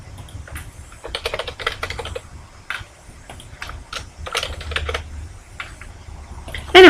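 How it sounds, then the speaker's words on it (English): Typing on a computer keyboard while entering names into an organisation chart in Microsoft Word 2010, a steady run of close, crisp key clicks in irregular bursts, ending with a louder knock. "just start typing people's names into the boxes"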